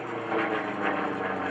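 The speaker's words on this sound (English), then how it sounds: "Tumbling the nose over the tail of the airplane in his Pitts Model 12." A Pitts Model 12 aerobatic airplane performing at a 2011 airshow at Greenwood Lake gives a continuous droning engine roar that swells and eases slightly as it maneuvers, fairly loud and filling the scene without voices.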